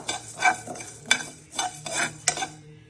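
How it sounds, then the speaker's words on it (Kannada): A spoon stirs cumin seeds frying in a pan for a spicy curry-leaf chicken masala, making several distinct metallic clinks and scrapes over a faint, low sizzle, close by and without speech. "ಒಂದೂವರೆ ಸ್ಪೂನ್ ಅಷ್ಟು ಜೀರಿಗೆ, ಇದನ್ನೊಂಚೂರು ಫ್ರೈ ಮಾಡ್ಕೊಳ್ಳೋಣ ಗೋಲ್ಡನ್ ಬ್ರೌನ್ ಬರೋ ತನಕ."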